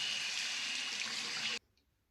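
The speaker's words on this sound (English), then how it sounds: "Not the easiest razor to rinse" Running water rinsing a Phoenix Artisan Accoutrements Starling single-edge safety razor under a tap, a steady close hiss that stops abruptly, followed by quiet.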